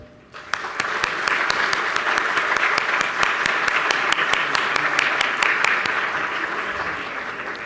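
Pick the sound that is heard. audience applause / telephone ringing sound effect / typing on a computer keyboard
audience applause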